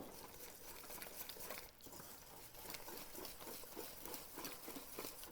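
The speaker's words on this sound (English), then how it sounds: "So I'm just going to whisk it." Waffle batter made with baking soda and vanilla being whisked in a bowl, a steady run of quick, soft tapping strokes that carries on throughout at a moderate, close level with no talking.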